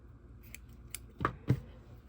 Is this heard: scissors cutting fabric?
yes